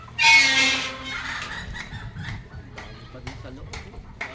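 Chickens cluck and call close by, with a burst of fowl vocalizing at the start before the sounds fade under people talking.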